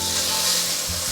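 Pumpkin pieces pan-fry in a vegan home dish, giving a continuous close sizzle and crackle with no talking.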